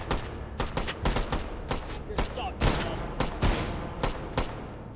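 Rapid bursts of gunfire in the video game Hot Dogs, Horseshoes & Hand Grenades crack out in irregular volleys, loud and close, with a few brief mechanical clicks between the shots.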